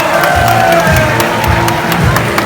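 An audience at a dolphin show at Safari World zoo claps and cheers loudly and steadily, with whoops rising above the dense applause.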